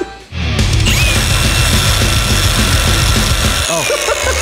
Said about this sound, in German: hier bin ich mit der Flex gerade ein bisschen zu tief gekommen